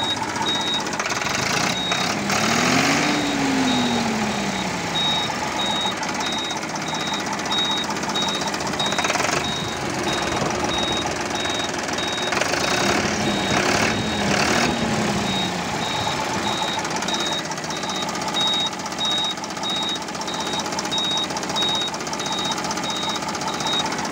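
A tractor engine in original condition runs steadily for a long stretch, a loud, continuous rumbling drone, with a steady high beeping tone throughout and a few brief louder bursts.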